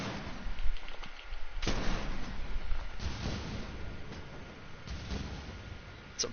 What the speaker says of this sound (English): It's a mortar.